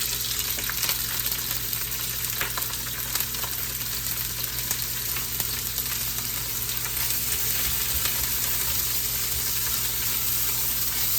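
Bell peppers and regular onions sauté in a pan, giving a steady, close, even sizzle that lasts throughout with no break and no talking.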